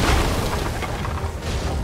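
Cannon fire in Sea of Thieves: dense, booming low rumble with overlapping blasts and crackle filling the whole stretch, loud and close, without talk.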